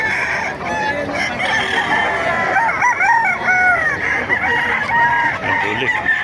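Roosters crow and hens cluck at a busy poultry market in Bocaue, with several overlapping birds calling near and far over a constant crowd murmur and faint background talk.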